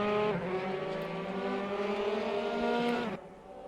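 A Formula 3 race car in RaceRoom Racing Experience at Monza accelerates hard. A loud, steady high-pitched engine whine climbs through the gears for about three seconds, then cuts off abruptly near the end.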